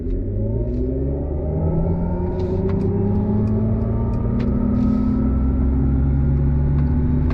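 A 2023 Mercedes-Benz EQE 350 electric sedan accelerates from a stop. Its simulated drive sound rises in smooth, layered synthetic tones over a steady road rumble, loud and continuous throughout.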